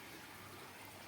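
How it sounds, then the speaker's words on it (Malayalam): A small stream flows over white sand, giving a steady, soft, broadband trickle and rush that stays even throughout, faint and unbroken. "ഈ സ്ഥലം കണ്ടോ, ചെറിയൊരു തോടാണ് ഇത്."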